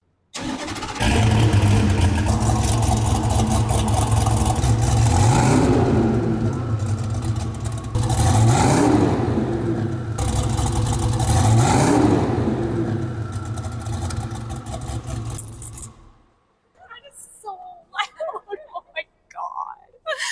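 A Hennessey Venom F5 Revolution Roadster hypercar engine fires up and revs hard nearby, a deep, loud rumble with several rising surges before it cuts off, followed by brief voices.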